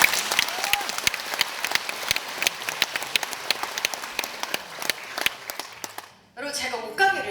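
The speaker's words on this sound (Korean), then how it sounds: "본인에게 큰 박수 보내주시기 바랍니다." An audience at a one-day seminar in Suncheon claps in sustained, dense applause that fades out, followed by a voice speaking near the end.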